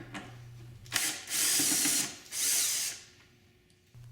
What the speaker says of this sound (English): We need to remove the 4 screws that hold the 2 trunk latch hooks in place.